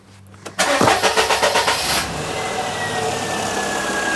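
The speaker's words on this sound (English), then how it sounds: "If we start the engine now," Perodua Kenari car engine cranks with a rapid, rhythmic chugging starter for about a second and a half, catches, then settles into a smooth, steady idle close by, with no talking.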